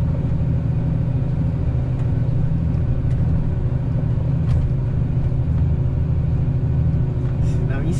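A lorry's engine labours in a lower manual gear while climbing a steep hill near Sarzedo, Minas Gerais, a steady loud low rumble running throughout without letup.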